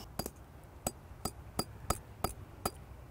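A hammer strikes the metal cap of a vaporizer to reshape it: about eight sharp, ringing taps in a roughly steady rhythm, close and distinct over a quiet background.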